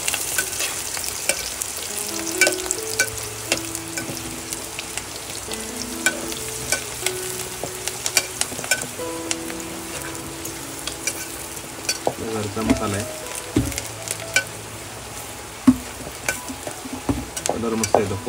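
Masala fries with onion, garlic and curry leaves in a pan for a crab curry, a continuous close sizzle broken by stirring scrapes and occasional sharper clatters.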